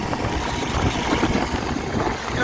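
A motorbike engine drones steadily while riding, buried in a constant rush of wind noise at close range.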